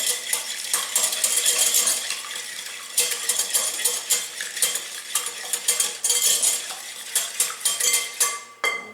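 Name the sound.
whisking two eggs in a large bowl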